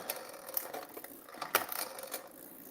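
A bicycle derailleur cable being tensioned with its barrel adjuster gives quiet, scattered small clicks and ratchety ticks, close up and with no talking.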